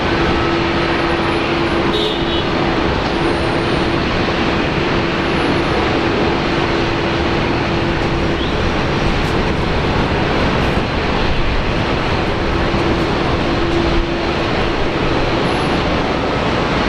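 Jet aircraft engine noise from a Qantas airliner, flight QF51, taxiing back to the gate at Brisbane Airport, a steady broadband roar with a faint tonal whine, continuous and fairly loud throughout.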